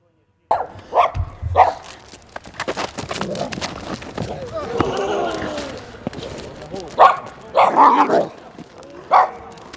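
A border guards' service dog barks several times in short bursts during a demonstration of detaining an intruder for schoolchildren, amid commotion and people talking nearby, with scuffling movement between barks.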